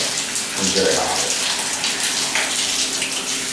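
A shower runs with a loud, steady hiss of water spraying and splattering close by, continuous throughout with no talk.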